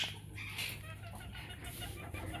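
A hen about to lay an egg clucks softly and repeatedly at close range, low, murmuring calls over a quiet background.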